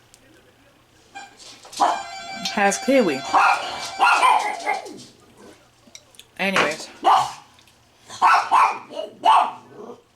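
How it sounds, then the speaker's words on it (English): Several dogs bark excitedly in bursts close by, yapping over and around a person talking. "so the dogs go crazy"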